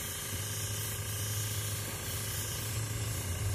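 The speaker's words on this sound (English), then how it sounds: "with the airbrush, you can do little fade effects" An airbrush spraying leather dye: a faint, continuous close hiss of air and spray with a low hum underneath, steady throughout.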